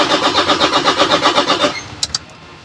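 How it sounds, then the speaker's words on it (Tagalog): A Toyota Hilux diesel engine with a low-power fault cranks in a steady rhythmic pulse for under two seconds, then drops away, followed by two brief sharp clicks. "Try na natin pag-crank."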